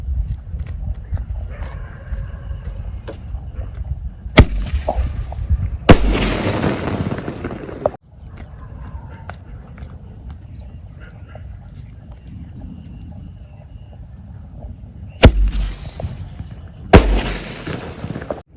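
Pandian Crackers penta sky shot fireworks in silver colour go off outdoors, several sharp bangs and crackling bursts spread across the stretch, loud and near, with a steady high whine in between.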